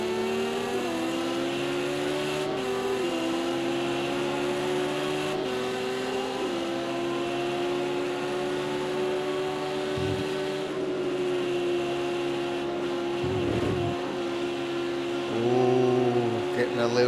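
Sim racing cars, Audis and a twin-turbo Datsun, drone steadily at Spa with engine notes shifting on gear changes, under continuous race commentary.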